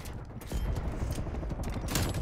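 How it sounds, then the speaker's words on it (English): Rapid gunfire pounds through wooden walls during a Team Deathmatch in Black Ops Cold War, dense and close, with heavy low thumps and repeated bursts across the whole stretch. "I'm shooting through wood."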